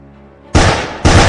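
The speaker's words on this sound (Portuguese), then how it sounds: "Então, houve-se tiros." Two loud, sharp gunshots ring out about half a second apart after a brief quiet hum, each with a short echoing tail.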